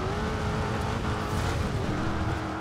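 An offroad car engine drones steadily in the racing video game Forza Horizon 2, a continuous mid-pitched motor hum with slight pitch shifts as it drives, alone without talk.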